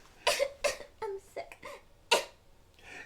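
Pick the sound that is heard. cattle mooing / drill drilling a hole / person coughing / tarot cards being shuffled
person coughing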